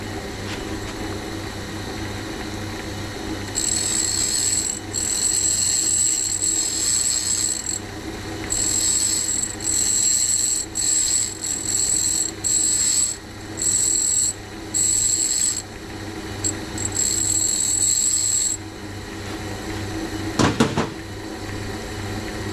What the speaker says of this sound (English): I'll just do it with a handheld diamond